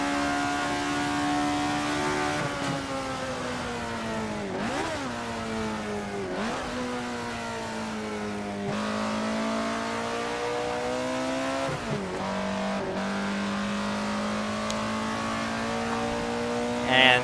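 High-revving engine note of the Alfa Romeo 33 Stradale in Assetto Corsa, a sustained loud wail rising and falling through several quick shifts and lifts, heard alone with no voices.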